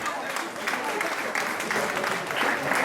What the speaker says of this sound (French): Est-ce qu'on peut applaudir pour notre chef traiteur,